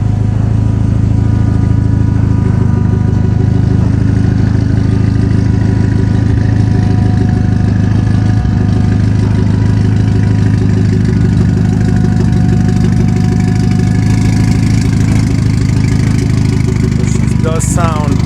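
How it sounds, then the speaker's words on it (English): A 2011 Mitsubishi Evo X track build idles steadily and loudly up close, a deep even engine drone with an aftermarket fuel pump in the surge tank whining faintly underneath throughout. "There's that annoying fuel pump in my surge tank that you can hear."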